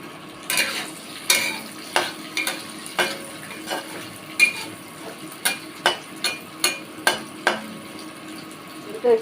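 Green chili and onion frying in hot oil in a pan, a steady sizzle broken by sharp scraping taps of a spatula roughly every half second, close and clear with no talk.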